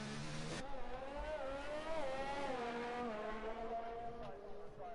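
Formula One race cars in a racing video game, set at the Italian circuit, pull out onto the track with a steady whining engine drone whose pitch climbs and dips as they accelerate, loud and continuous with no talk.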